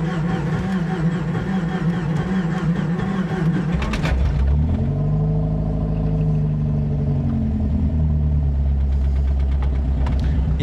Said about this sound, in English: Start that bitch. See if it'll idle.